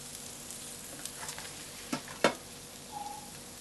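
Steak frying in a pan with onions and sweet peppers gives a steady soft sizzle throughout, broken by a few sharp utensil clicks and scrapes near the middle and a brief tone toward the end.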